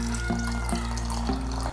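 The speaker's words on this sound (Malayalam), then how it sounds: "നിങ്ങൾക്ക് നിങ്ങളുടെ ആവശ്യത്തിനനുസരിച്ച് മിൽക്ക് എത്ര വേണമെങ്കിലും ഒഴിക്കാം" A steady stream of milk poured into a blender jar for a homemade protein shake, a continuous close liquid gurgle with a low hum underneath and no speech.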